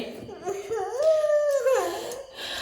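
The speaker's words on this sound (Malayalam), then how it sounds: "എന്തൊരു കുറുക്കൻ ഓരിയിട്ടാണ്" A jackal's drawn-out howl rises and wavers, then falls away, fairly close and alone for under three seconds, heard during a family board game indoors.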